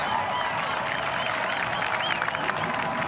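A dense crowd applauds and cheers triathletes at the 2022 European Championships in Munich, a steady, loud wash of clapping with raised voices mixed through it.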